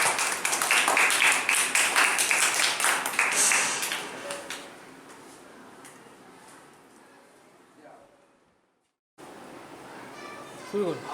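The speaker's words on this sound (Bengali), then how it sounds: "ঈশানের জন্য এখন হাততালি হয়ে যায়" Applause breaks out for Ishan, a student in a classroom, with children clapping and calling out in a loud, dense burst that slowly fades to quiet. Kids' voices return after a short gap.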